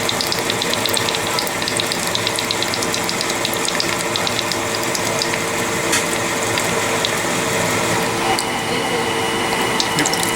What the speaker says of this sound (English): So now we're transferring DI water to the process tank.